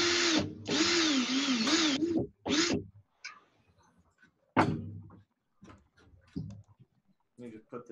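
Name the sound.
power drill straightening nitro coil wire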